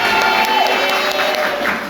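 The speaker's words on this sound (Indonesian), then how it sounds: "Oke, tepuk tangan untuk Muhammad Ferdi." A school class of students claps together in a classroom, a brief burst of scattered hand claps with faint cheering that fades out after a couple of seconds.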